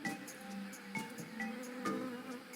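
Bees buzz in the video game Tales of Monkey Island, a steady, fairly close insect drone with brief louder pulses, heard alone without talk.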